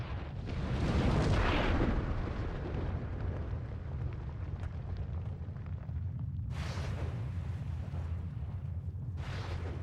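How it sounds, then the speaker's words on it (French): Documentary sound effect of asteroids crashing into the early Earth: a deep, rolling blast swells up early and rumbles on at length, then two sharper bursts of debris strike near the end, all without speech. "Lorsque les astéroïdes s'écrasent au sol, ils éclatent."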